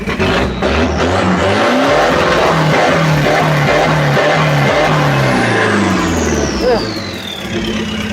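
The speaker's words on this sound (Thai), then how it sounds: "อ่าพี่ขอขอฟังเสียงเบิ้ลหน่อยพี่" A car engine is revved hard, roaring loudly and close with repeated rising and falling bursts of revs. Voices talk over it.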